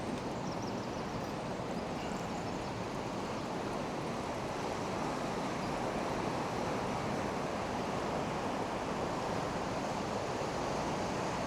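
River water rushes over a weir beside a riverside cycle route, a dense, steady roar of churning water that holds unbroken and fairly loud throughout, with some wind noise mixed in.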